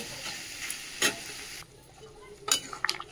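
Fish sizzling as it fries in oil seasoned with salt and turmeric, a steady close crackle with a few sharper stirring clinks and spatters, no talking.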